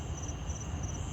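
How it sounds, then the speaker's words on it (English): Crickets chirp steadily on a peaceful night in a backyard, a dense high continuous trill with no pauses, moderately loud and alone. "Hear the crickets chirping."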